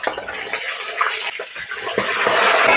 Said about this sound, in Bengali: তেল ভালোভাবে গরম হলে মাছগুলো দিয়ে দিচ্ছি।